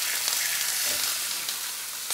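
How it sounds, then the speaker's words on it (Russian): Beef strips sizzle in a pan over high heat, a loud, steady hiss of frying that fills the whole stretch with no talk. "Все, на полную у нас тут жарится все это."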